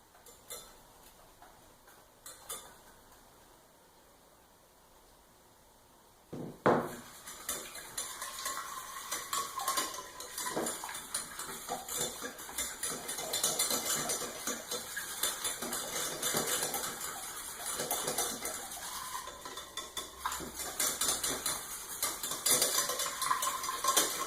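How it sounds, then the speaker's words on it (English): Peanut sauce whisked in a bowl for Vietnamese shrimp rolls, a steady, close ticking and scraping of a whisk against the bowl that starts after a quiet stretch and keeps up continuously. "Again, give it a whisk."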